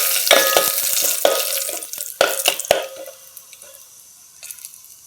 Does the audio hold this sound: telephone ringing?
no